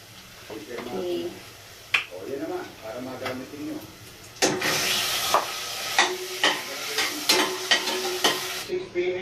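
Ground meat for Filipino-style spaghetti sizzles in a hot pan while a spoon scrapes and stirs it in repeated knocks. Someone talks over the first half before the frying hiss grows louder.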